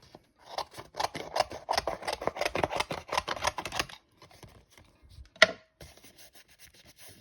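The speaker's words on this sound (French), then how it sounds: "Avec une paire de ciseaux, hop." Scissors snip around a die-cut stamped paper embellishment for Halloween scrapbooking: a close, quick rhythmic series of crisp cuts, then slower scattered snips and one sharp click.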